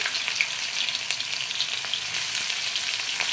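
Chopped onion frying in oil with nigella seeds, a dense, even hiss of sizzling with faint stirring ticks, steady and close, no voices over it.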